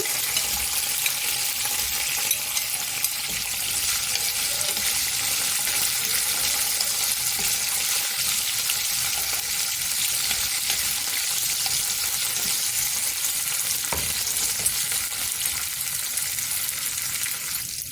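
Garlic and onion frying in a pan with green chilies, an even, dense hiss of sizzling oil that holds steady at close range for the whole stretch.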